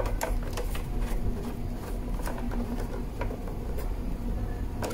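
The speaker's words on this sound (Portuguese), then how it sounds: "Aqui o parafuso com a Philips." A Phillips screwdriver drives a small screw into a PS5 console, giving steady close clicking and ticking taps over a constant low mechanical hum.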